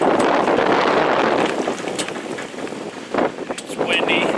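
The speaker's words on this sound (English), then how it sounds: "It's windy day here in California." Gusty wind on a windy California day buffets the microphone with loud, rumbling bursts that rise and fall outdoors near a donor truck, with no clear speech.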